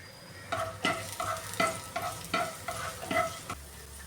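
Raw banana stir fry in a pan with garlic added, a spoon scraping and stirring in six regular strokes over a steady sizzle, close and fairly loud, no speech.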